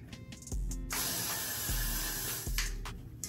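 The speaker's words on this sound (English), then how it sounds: "we're gonna go in and spray it" Several bursts of aerosol spray hiss up close onto wig lace, long sustained sprays separated by brief pauses, with faint clicks of the nozzle.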